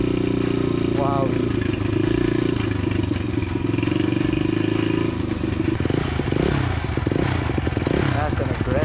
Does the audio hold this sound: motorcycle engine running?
yes